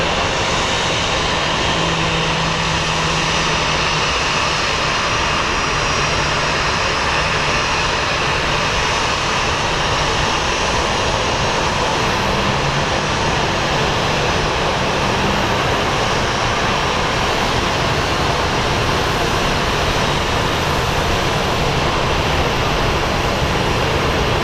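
A steady, loud roar of a Copperhead airliner's jet engines taxiing at Phoenix Sky Harbor International Airport holds unbroken throughout, broad and unchanging, with no voices.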